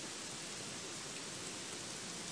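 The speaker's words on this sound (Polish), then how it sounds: "Ten deszcz jest nie do zniesienia, naprawdę." Steady, dense rain falls in the video game Gothic 3, a constant even hiss that fills the whole short stretch with no talking over it.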